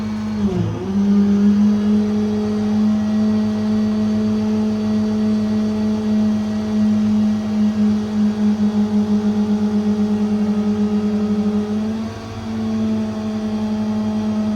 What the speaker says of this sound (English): The compressor as well is run off the remote.